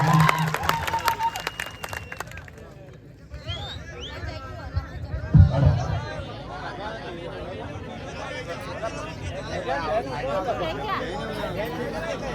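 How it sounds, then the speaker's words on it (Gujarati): An outdoor crowd at a political speech event welcomes a legislator, with brief clapping at the start that gives way to a broad murmur of chatter, voices and crowd noise. "તો આપણે જોરદાર તાળીઓથી તેમનું સ્વાગત કરીશું"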